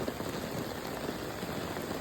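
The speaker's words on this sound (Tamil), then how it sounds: "இன்று மழை அடிக்கிறது, அடமழை" Heavy rain falls on a village pond in Tamil Nadu with a dense, continuous hiss and patter of drops, fairly quiet and even throughout, with no voices.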